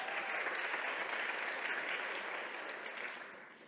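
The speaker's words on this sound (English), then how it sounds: "Give her another round of applause" Sustained applause from a large audience at a conference plenary session, dense and steady throughout before tapering slightly near the end, with no talk over it.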